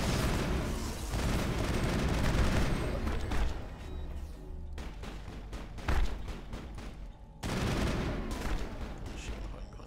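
Repeated gunfire from the shooter video game Mass Effect, dense bursts of shots rattling steadily over about ten seconds, with a few brief lulls and sharper single cracks in between.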